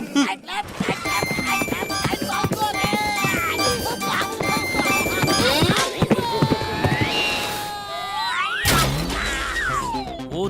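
A cartoon horse, Dilawar Khan's racehorse Raftaar from Motu Patlu, clip-clops and whinnies amid animated sound effects and music, with sharp hoof knocks early and a rising neigh-like cry near the end.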